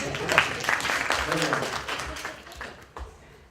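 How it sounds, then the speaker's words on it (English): Audience applause in a lecture hall, a dense wash of clapping that swells early, holds steady, then thins and fades toward the end. "Applause."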